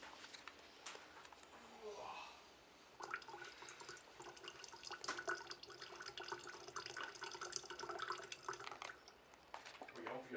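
Water from Loch Lomond pours and splashes steadily into a water bottle during a refill, a close, continuous trickle that fills the scene, with a person speaking over part of it.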